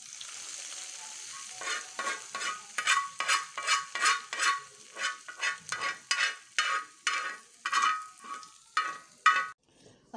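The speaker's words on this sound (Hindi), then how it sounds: "ये मेरा तड़का तैयार हो रहा है।" Spices for a tadka sizzle in hot oil for keema baingan bharta, crackling in rhythmic bursts as they are stirred, close and fairly loud with no talking.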